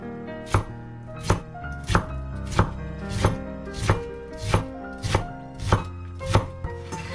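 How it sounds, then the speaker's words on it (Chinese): A knife on a cutting board chops ginger into slices, shreds and mince in a home kitchen, with about a dozen sharp, evenly spaced strikes close by. "姜切成片，再改刀切成丝，最后切成末"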